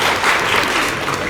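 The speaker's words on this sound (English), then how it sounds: "you deserve another round of applause" Audience applause at a book launch event in Singapore, a dense, steady burst of clapping from a room full of people, loud and close throughout.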